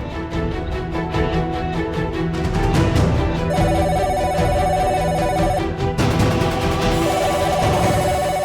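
A telephone rings in repeated bursts against a dense, loud background of overlapping sounds; no one speaks.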